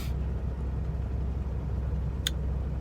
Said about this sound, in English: The truck's running because I've got the oven going so I can make my dinner.